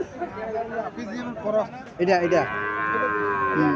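A desi calf at a busy cattle market lets out loud, close moos in a couple of drawn-out calls, with people chattering around it.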